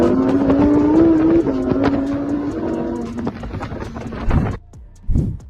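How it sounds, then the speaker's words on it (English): A car driving through Las Vegas streets, its engine droning and shifting pitch up close with loud background noise, then fading into quieter passing swells. "Sean O'Malley was seen with his new hair color driving through Vegas before his fight versus Pedro Munhoz"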